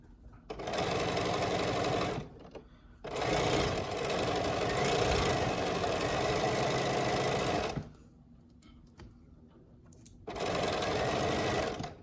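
A sewing machine stitches a scrunchie wristlet keychain in three long, steady runs of loud, even whirring, broken by brief stops between them.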